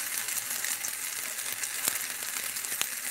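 Steady close sizzle of a potato cake frying in bacon grease, with a couple of sharp presses and taps as it is smashed down in the pan.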